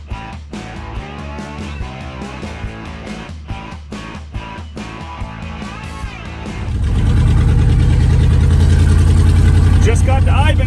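A 1965 Beaumont car's engine comes in partway through as a loud, steady, low droning rumble that stays close until the end.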